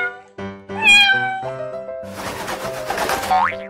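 A cartoon-style cat meows in a bright, pitched-up call, with musical tones and springy boing effects around it. The sound is loud and close and carries on for most of the clip.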